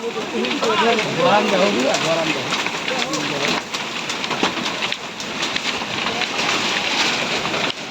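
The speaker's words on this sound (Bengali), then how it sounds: "এত বড় বড় শিল পড়তেছে আমরা সকলে নৌকার ভিতরে আটকে পড়ছি" Large hailstones pelting down around a boat during a fierce storm: a dense, crackling patter that fills the whole stretch, with people's voices talking over it in the first few seconds.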